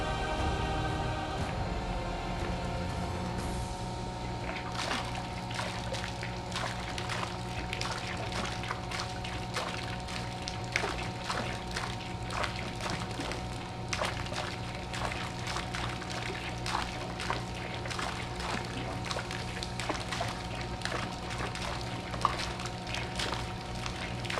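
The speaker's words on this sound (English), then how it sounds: "Let me plug the compressor in." An air compressor drives an air lift pump. A steady mechanical hum starts, then water pours and splashes continuously alongside it, close and constant with no talking.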